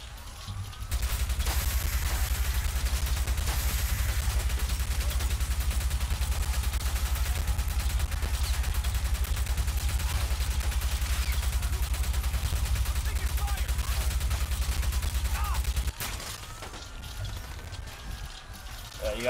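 Gunfire in the PC game Watch Dogs, a dense rapid stream of shots with a steady low thumping pulse running for about fifteen seconds, then stopping, with a player voice faintly underneath.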